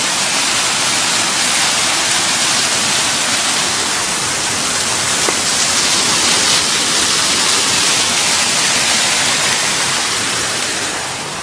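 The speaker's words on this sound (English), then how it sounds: "Wanted to give you a look at the up closer of the waterfall here." A waterfall in a city park (Finlay Park, Columbia) roars steadily up close, a dense continuous wash of falling water with no voices, holding loud and even throughout.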